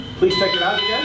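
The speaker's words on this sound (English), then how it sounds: "That's the fire alarm." A fire alarm in a conference room goes off, a steady electronic buzzing tone that starts abruptly and holds loud, with a voice speaking briefly just before it begins.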